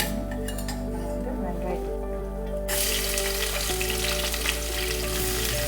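Masala spices fry in hot oil for a mushroom biryani, giving a steady, close sizzle that grows brighter and louder partway through, with a voice talking over the first half.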